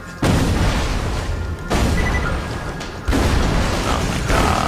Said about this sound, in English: let's go ahead and gain some distance, shoot some rockets